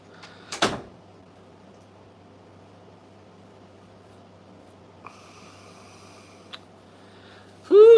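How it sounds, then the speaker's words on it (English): A door is shut once with a sharp thud near the start. A quiet room hum follows, with a couple of faint clicks and a louder burst of noise at the very end. "Shut the door."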